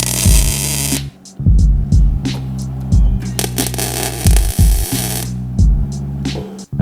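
Short bursts of welding buzz as a steel panel on a Mini Clubman is tack welded, several loud crackling zaps separated by brief pauses, close up with no talking.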